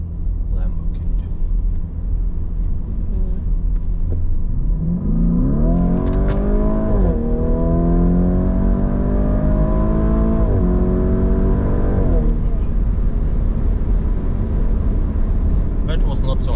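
A 2018 Lamborghini Urus in Strada mode accelerating hard from inside the cabin, engine pitch climbing through several gears with shift drops, over a constant road rumble.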